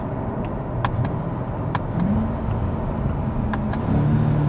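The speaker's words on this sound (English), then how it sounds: "They loved the sound on the downshifts." A Chevrolet C8 Corvette rumbles with a deep, steady engine drone, its low growl swelling slightly as it downshifts, with a few sharp clicks over the top; near and fairly loud, with no talking.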